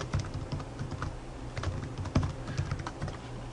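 Rapid, steady clicking of keys on a computer keyboard, close and continuous with no speech.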